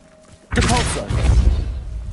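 Depulso spell cast in Hogwarts Legacy: after a quiet moment a sudden forceful whooshing thump bursts in with a shimmering magical tone, followed by a heavy rumbling impact that lingers.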